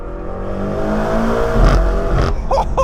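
Engine of a 2024 BMW M8 Competition rumbles loudly as the car downshifts, with the revs dropping, a burst of blips, and a few sharp exhaust pops and crackles near the end.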